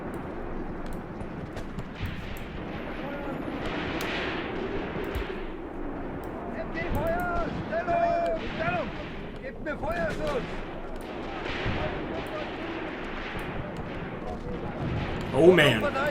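WW2 soldiers fire their guns in Graviteam Tactics Mius Front, a steady patter of distant rifle and machine-gun shots with occasional heavier thuds, heard under someone talking throughout.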